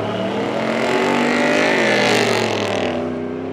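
A truck and a Mustang drag race at Rockford Speedway, both engines roaring and accelerating hard together, revving steadily higher with a dense, continuous mechanical drone.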